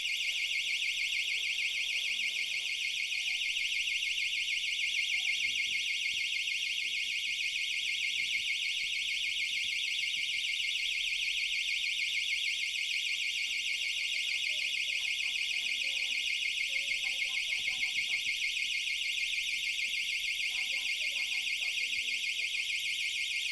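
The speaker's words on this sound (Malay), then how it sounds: "akan menghidupkan siren, buzzer dan buzzer" A steady, high-pitched electronic alarm buzzer on a student-built device sounds continuously throughout a project presentation, loud and unbroken, with faint background noises beneath it.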